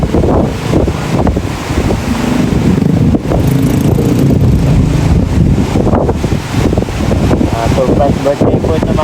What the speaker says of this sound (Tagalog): Malakas ang hangin, grabe.